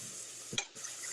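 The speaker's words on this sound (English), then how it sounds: "I hear that sizzling. That's a really good sound." Vegetables for a tomato vegetable soup sizzle and hiss in a pot, a steady close frying crackle with a brief stirring clatter midway, no voices.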